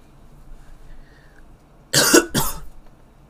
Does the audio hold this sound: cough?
yes